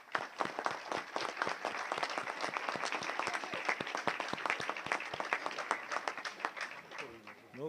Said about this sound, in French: je voudrais qu'on applaudisse